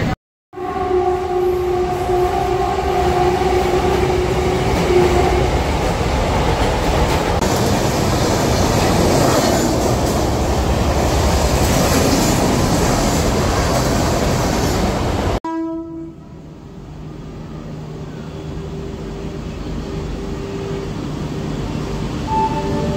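A train running between Jalgaon and Bhusawal rumbles loudly and steadily, with horn tones sounding early on, then drops suddenly to a quieter ride with fainter tones near the end.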